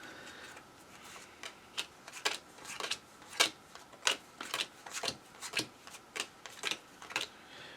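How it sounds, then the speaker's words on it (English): Rapid riffle-shuffling of cards from the Undaunted Normandy board game, a quick series of a dozen or so sharp flapping bursts in steady rhythm, close and fairly quiet with no talk. "The Germans had 1, so they're going to do their shuffle real fast."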